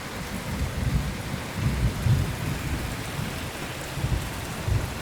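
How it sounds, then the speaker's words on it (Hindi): Heavy tropical storm rain pours steadily during Tropical Storm Bertha, with low thunder rumbling in several swells across the downpour; no voices. "अभी तो आसमान जो है ना बिल्कुल गरज रहा है, लाइटिंग हो रही है।"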